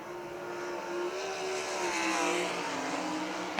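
Sprint cars race on a dirt oval at Millstream Speedway, engines roaring loud and continuous with a rising and falling pitch as cars sweep through the turns, with no talk over it.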